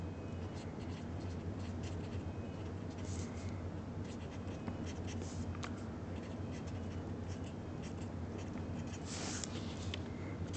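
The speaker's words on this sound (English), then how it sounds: "All right, so let's write that now." A pen scratches and taps in quick irregular strokes while a chemistry equation is written out, close and soft over a low steady background hum, without speech.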